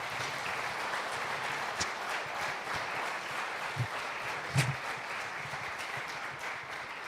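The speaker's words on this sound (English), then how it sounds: "I would request you to give another round of applause." A lecture audience claps in sustained, even applause that stays fairly quiet and distant throughout, with no speech over it.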